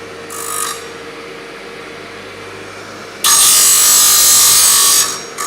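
A power saw cutting a quarter inch off the butt end of a golf club shaft: a brief high whir, a pause of low workshop hum, then a loud sustained grinding cut of about two seconds before it drops away.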